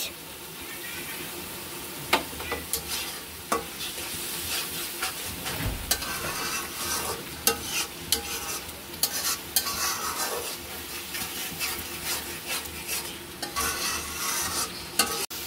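Goat tripe in a pan being stirred together with salt and spices, a wet, scraping stir under a soft sizzle with occasional sharper clanks of the spoon against the pan.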